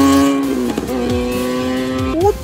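A Porsche Boxster sports car accelerating hard in a drag race against a Ninja ZX10R superbike, with a loud, close engine howl climbing through gear changes and rising sharply again at the end.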